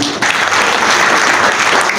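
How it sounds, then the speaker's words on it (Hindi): A crowd at a lovebird society's grand opening event in Karachi applauds in a loud, thick, continuous wash of clapping that holds steady without any break. "उसके लिए भी एक बार जोरदार तालियां।"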